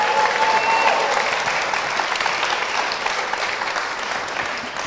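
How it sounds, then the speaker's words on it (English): Audience applause in a church service as people are welcomed onto the stage, steady dense clapping from a crowd throughout, moderately loud and continuous. "Should we give them a round of applause?"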